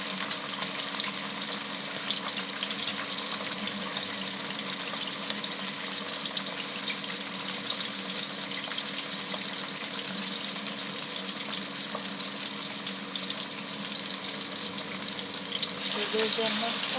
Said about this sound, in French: Et je vais mettre dans l'huile chaude.